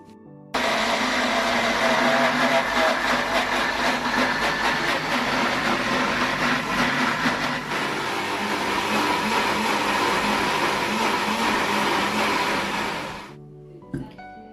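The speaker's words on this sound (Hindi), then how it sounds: "ये 300 ग्राम हमने ऑयल लिया और थोड़ा थोड़ा करके ऐड करते जाएंगे और ग्राइंड करते जाएंगे।" A mixer grinder grinds garlic and ginger with oil in a loud, continuous whirring burst of about twelve seconds that winds down at the end.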